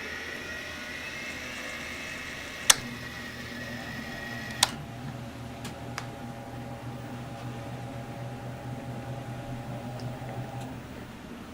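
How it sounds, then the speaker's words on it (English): A Hammond C3 organ's motor starting up, a steady low electric hum and whine settling in, with a few sharp clicks from the switches early on and a faint background hiss, no talk. "So let's start up the C3 here."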